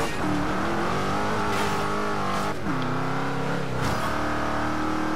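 A car accelerating in Forza Horizon 2, its engine droning loud and continuous with rising pitch that drops at each gear shift, tires hissing beneath the steady roar.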